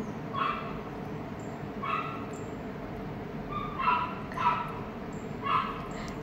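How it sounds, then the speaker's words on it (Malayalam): A puppy from a house below yips and barks in short high-pitched bursts, about five spaced a second or two apart, somewhat distant over a low steady background hum. "താഴത്തെ വീട്ടിലെ ഒരു പട്ടിക്കുഞ്ഞ് ഭയങ്കര ഒച്ചപ്പാടാണ് കേട്ടോ"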